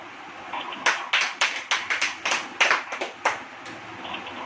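A church congregation claps hands in a series of sharp, evenly spaced claps, moderately near, rising to a quick rhythmic run before trailing off, with no talk over it.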